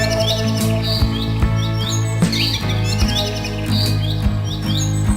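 Cartoon sparrow Tuni chirping, repeated quick high tweets and bird calls, loud and close over a steady musical cartoon background.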